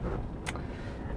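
1997 Toyota 4Runner Limited 4x4 crawling downhill in low-range first gear, a steady low engine and drivetrain rumble with a brief faint squeak partway through.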